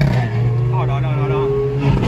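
Ferrari sports cars, including a blue 812, drive past on a Paris street with a steady engine note and some revving, heard under continuous talk for about two seconds.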